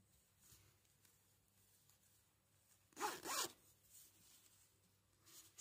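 A zipper on a handmade no-sew heart-shaped pillow is pulled once in a quick, close raspy run lasting about half a second, set against quiet room tone.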